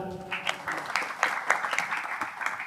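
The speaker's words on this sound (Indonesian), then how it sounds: "Sekali lagi boleh tepuk tangan dong." Audience applause at a live religious talk event, a short burst of clapping rising in uneven bursts, with a voice briefly audible at the start.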